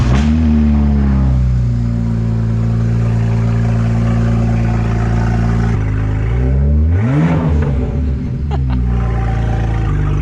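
A BMW 335i engine cranks and catches, then revs loudly and steadily up close, with a couple of sharp throttle blips near the end.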